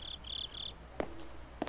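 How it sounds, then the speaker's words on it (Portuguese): Crickets chirp in short bright trills in the Slender Man video game, followed by two soft thuds, all quiet and close with no talking. "Esse barulho de avião, de uns grilos aqui."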